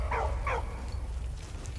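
A dog barks twice in quick succession in the Valiant Hearts video game, close and clear, followed by quiet background ambience and a faint whine.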